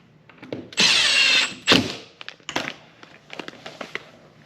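A power drill drives a screw while shiplap boards are installed in a barn: a loud, close burst of motor whir, then a second shorter burst, followed by scattered clicks, taps and handling knocks.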